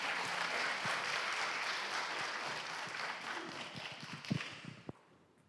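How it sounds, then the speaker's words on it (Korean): Audience applause at a senior mission conference in a Korean church hall, steady dense clapping that gradually thins and fades out, with a few last isolated claps at the end. "박수로 환영해 주십시오"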